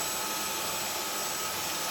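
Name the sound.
cordless stick vacuum cleaner switched on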